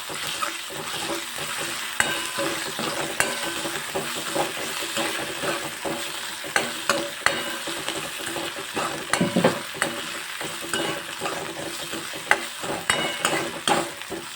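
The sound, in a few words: ginger, chili and garlic paste frying in a pan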